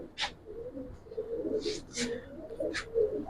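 A khaki female Giribaz pigeon coos in low, soft murmuring phrases close by, broken by several short rustling or flapping bursts.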